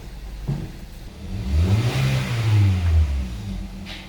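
A car engine cranks and catches, then revs up and settles back down, loud and close with no talk. The car had a months-long fault in which the revs would not climb past 1800 rpm and has just been repaired.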